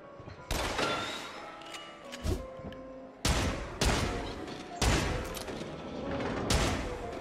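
Gunfire in the VR shooter game Until Dawn: Rush of Blood as mannequins are shot, several loud sharp bursts of shots in quick clusters with booming impacts between pauses.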